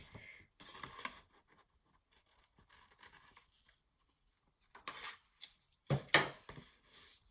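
Scissors cut through a sheet of paper in short rustling snips and slides, quiet and close, with pauses and a louder crisp burst of cutting near the end.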